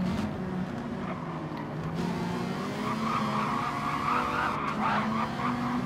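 A race car in Gran Turismo 7 slides into a drift, its tires letting out a sustained skidding squeal over steady engine roar throughout, loud and continuous with no speech.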